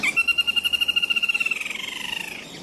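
A golden-backed woodpecker, or flameback, in a forest gives a rapid pulsed trilling call, loud and near at first, then slowing and fading away over a couple of seconds, heard alone.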